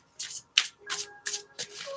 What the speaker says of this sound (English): I'm just gonna go ahead and shuffle